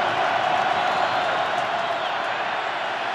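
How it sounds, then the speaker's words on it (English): A record crowd at the Ravens' stadium during a Steelers–Ravens NFL game roars in a dense, steady wall of cheering that stays loud and unbroken from start to finish. "A record crowd here at the Ravens Stadium. All-time crowd, and everyone waving their arms and cheering on third and 10"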